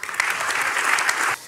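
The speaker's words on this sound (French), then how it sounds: "Donc déjà, on va applaudir ça." A short burst of dense audience applause at a French business presentation, steady and loud for over a second before cutting off abruptly.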